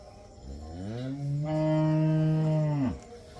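A cow on a farm gives one long, loud moo, rising in pitch and then holding steady before it cuts off, close and alone.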